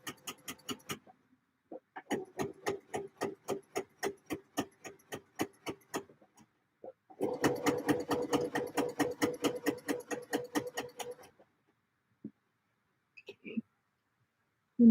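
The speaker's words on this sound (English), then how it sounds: "And here we are, still stitching away." A sewing machine stitches skirt fabric in steady rhythmic runs of rapid mechanical clicks, pausing briefly between two bursts, close and clear with a few faint handling noises after.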